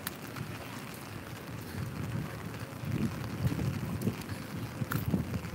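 Steady wind rushing across the microphone outdoors in Old Town Alexandria, Virginia, rumbling low and gusting harder toward the end, with no voices.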